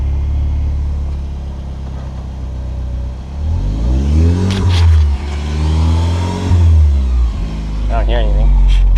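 A Kia Optima fitted with an ARK DT-S exhaust revs up close by in two rising and falling engine sweeps over a steady idle rumble, with people talking around it.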